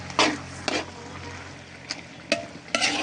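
Bamboo shoots (labong) being stirred and cooked in a pan, with a few distinct scraping stir strokes over a soft steady sizzle, close and moderately loud.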